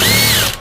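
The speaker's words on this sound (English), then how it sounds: "Run the screws in reverse, break through the carpet or the upholstery." A power drill runs screws in reverse through carpet or upholstery with a loud, close, high whine that holds steady, then cuts off abruptly near the end.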